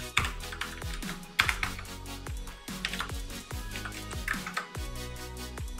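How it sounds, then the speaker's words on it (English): Rapid, crisp clicking of keys on a computer keyboard as text is typed, heard close and alone as a steady run of sharp taps with brief pauses. "Now type your text here."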